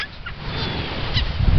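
Baby gulls call on a sandy beach at sunset, a cluster of brief, close honking cries over a steady wash of shore noise.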